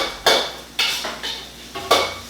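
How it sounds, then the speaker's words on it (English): Onion, garlic and Thai chilies being stir-fried in a pan for pineapple fried rice: about five sharp scraping strokes of a utensil against the pan, each fading quickly, with a faint sizzle between them and no talking. "Stir fry that up. Just till you get the aroma of all of the onion and the garlic in there"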